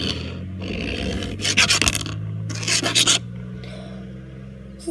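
Rock being scraped and sharpened against another surface, with two loud rasping bursts near the middle over a steady low hum, plus softer scraping strokes before and after.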